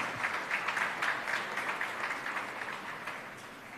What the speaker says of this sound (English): A round of applause to them, please.